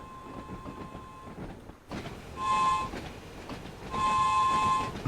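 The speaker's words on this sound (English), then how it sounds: "It's quite a cute whistle for this train," Two bright whistle toots on a train in the Train Sim World 5 game, Isle of Wight line, each about a second long and clearly heard over steady rumbling running noise.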